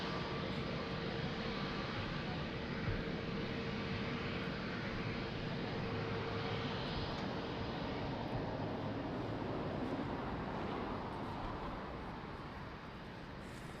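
Airliner engines at Lisbon Airport, a loud continuous broadband roar with a steady hum, holding level for most of the time and easing slightly at the end, heard alone with no talk.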